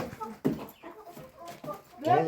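Turkeys cluck in a village farmyard, several short close calls in irregular bursts, with a person's voice mixed in.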